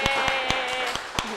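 Audience clapping for Vicentía at the close of an interview show, a short burst of scattered, rhythmic claps under steady background tone.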